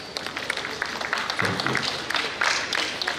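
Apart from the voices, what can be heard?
audience applause at a conference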